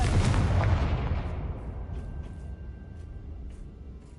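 A Confringo spell explosion in the Hogwarts Legacy video game, a loud booming blast at the start that rumbles and slowly fades over several seconds, followed by faint scattered clicks.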